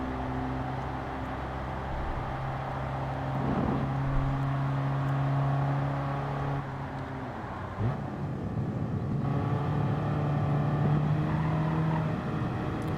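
A 2008 Fiat 500 lapping the Nürburgring in Gran Turismo, its small engine droning steadily with shifting pitch as it holds throttle through corners, continuous and fairly loud with a brief dip and recovery midway.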